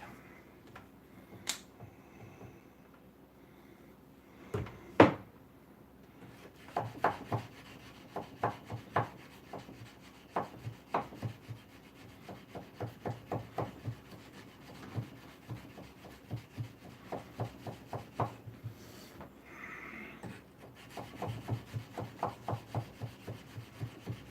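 Wood being sanded by hand, quiet rhythmic rubbing strokes in quick bursts, with short pauses between sets and a few knocks early on.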